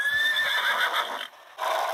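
A horse in a children's search-and-find video game featuring Minecraft-style characters gives one clear, close whinny with a falling pitch, ending with a short breathy snort.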